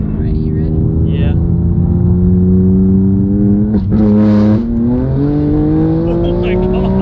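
A BMW M2 Competition launching on rolling antilag, with a loud, close engine drone that rises in pitch, sharp pops and bangs in the middle, then a steady climb as it pulls away.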